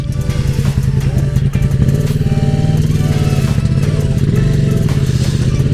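A KTM motorcycle engine idles after a valve-clearance repair in a living room turned into a garage. It runs loud, close and steady, with a dense mechanical clatter throughout and no voices.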